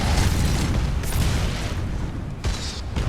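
Combat explosions in the Skyrim game give a series of heavy booms, with sharp bursts around the one- and two-and-a-half-second marks over a continuous low rumble of battle.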